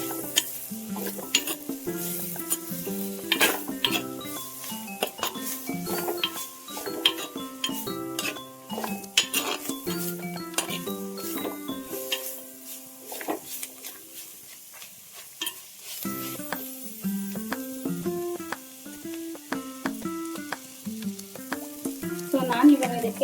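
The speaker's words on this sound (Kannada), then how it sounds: "ಸೊ ಇದಿಷ್ಟು ಚೆನ್ನಾಗಿ ಫ್ರೈ ಆಗಲಿ." Coriander leaves and mint fry in a pan for a country-style chicken sambar, with steady stirring and scraping of a utensil against the metal pan and occasional clinks, loud and close throughout.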